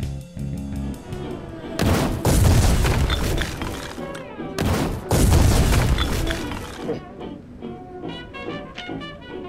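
Satchel charges explode in the war game Foxhole: two heavy, roaring blasts a few seconds apart, each bursting loud and then rumbling off over an ongoing background of game sound.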